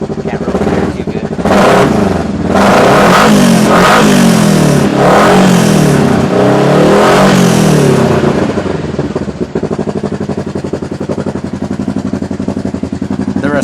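2021 Kawasaki KRX1000 Trail side-by-side engine revving up close in repeated sharp throttle blips, each rising and falling quickly, then settling into a steady, rattly idle.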